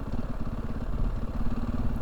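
A motorcycle engine while riding, a steady, close, low-pitched drone with rough, throbbing harmonics that holds without a break.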